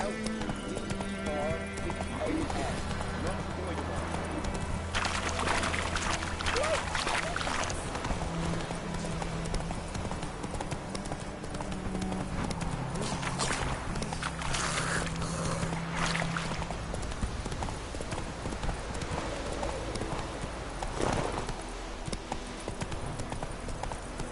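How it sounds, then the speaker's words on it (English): Horse hooves clip-clopping at a run in the video game Witcher 3, a steady rapid rhythm of hoofbeats with game sounds throughout and someone talking over them. "Run, Roach."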